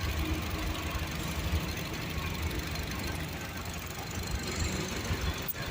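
A 2015 Honda Brio 1.2-litre automatic's engine idles steadily with a dense, even mechanical hum and faint ticking, continuous and close, with no talking.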